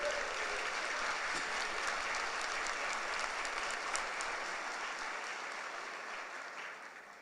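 A church congregation applauds, steady dense clapping that stays fairly distant and gradually fades toward the end.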